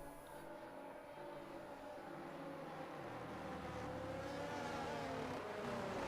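A steady engine drone with a rising, revving pitch, continuous and fairly close: the safety car idling and accelerating in the F1 23 racing video game at the Japan round.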